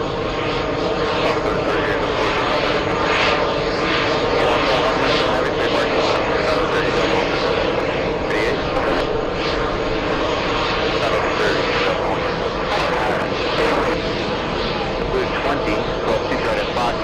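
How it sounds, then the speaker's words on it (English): Delta Boeing 767-400 airliner at JFK airport, a steady loud engine roar filling the whole stretch, with radio and voices talking over it. "Let's go ahead and zoom into the Delta 767 400."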